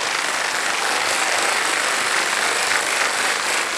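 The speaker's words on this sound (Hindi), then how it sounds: "तालियां बज जाए" Studio audience applause on the KBC game show set, a steady, loud wash of clapping that holds unbroken throughout with no voices over it.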